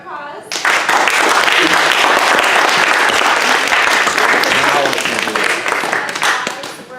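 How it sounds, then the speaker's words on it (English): A classroom audience bursts into sustained applause for an author after a Skype session, dense and loud clapping that starts abruptly and holds for several seconds, with voices mixed in. "we would like to give you a round of applause"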